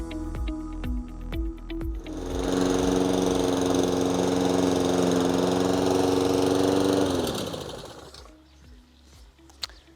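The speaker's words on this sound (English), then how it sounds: "petrol lawnmowers can be a lot noisier than you might think" A petrol lawn mower engine starts up after some clicking and clunking, then runs with a loud, steady, buzzing drone for several seconds before cutting out and winding down to quiet knocks.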